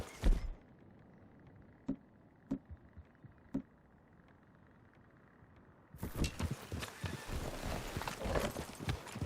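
Horse hooves clip-clop in the game Red Dead Redemption 2, sparse single hoof knocks over a quiet ambience before a louder, busier stretch of repeated hoofbeats and movement.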